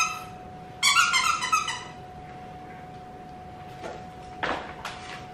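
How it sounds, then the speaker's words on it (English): A squeaky fish-shaped dog toy for a Golden Retriever gives a burst of rapid, loud rubbery squeaks, then quieter isolated squeaks follow in an apartment. "Does it squeak?"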